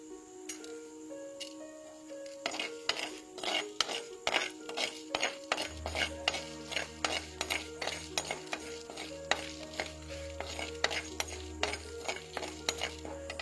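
A spatula scrapes and taps against a pan in a steady rhythmic stirring while chana dal fries with curry leaves, the clicks sharp and close over a soft sizzle and a low hum from the middle on.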